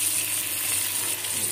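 A small amount of oil sizzles and fries steadily in a pan for pilaf, a continuous close hiss with no voices.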